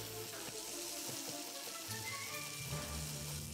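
Ground meat sizzles quietly in a hot pan seasoned with ground cumin, a steady soft crackle and hiss with faint pops throughout, low in level and without talk.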